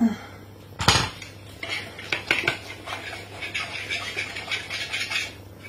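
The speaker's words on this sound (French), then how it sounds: "le fouet métallique" A metal whisk clinks and taps against a bowl while making a dark chocolate marshmallow dessert. A sharp knock opens a run of quick, uneven, close-up clatters.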